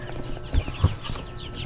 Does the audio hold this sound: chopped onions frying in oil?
no